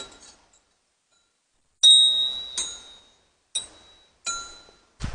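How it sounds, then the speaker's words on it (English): Small bells in Pskov ring out in four separate bright, clear strikes, each one ringing on briefly before fading, with a faint sound at the start and a knock at the end. "Ring bells."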